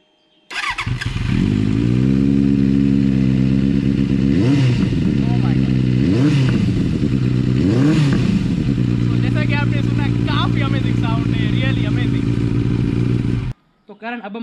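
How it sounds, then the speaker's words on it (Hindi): A Benelli 600i motorcycle idles loudly and steadily through its exhaust, with three sharp revs of the throttle, followed by a stretch of rumbling idle before it cuts off. "दोस्तों इसकी जो एग्जॉस्ट साउंड है वो काफी ज्यादा अमेजिंग"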